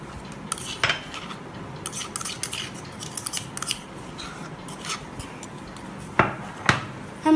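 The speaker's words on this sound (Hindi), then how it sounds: "हम एक बिस्किट लेकर हमें ऐसे कूटना है" A biscuit being pounded and crushed into small pieces for a bowl, giving a run of sharp, close clicking and crunching taps at an irregular rhythm, with a few louder knocks near the end.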